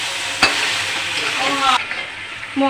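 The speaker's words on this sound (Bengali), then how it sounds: "একটুখানি ভালো করে নেড়ে ছেড়ে কষিয়ে নেব" Mutton being stir-fried in a pan with black pepper powder, with a loud, steady sizzle and scraping stirring strokes, plus a sharp knock near the start, close up.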